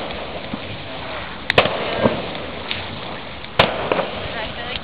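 Fourth of July fireworks on the shores of Green Bay, Wisconsin in 2013, a few distant pops and bangs over steady outdoor crowd noise and background talk.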